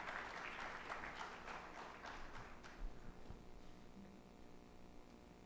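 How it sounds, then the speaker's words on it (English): Applause from an audience at a government event on mobile tower safety, a full wash of clapping that starts strong and gradually thins and fades toward the end. "Let's have a bigger round of applause for him."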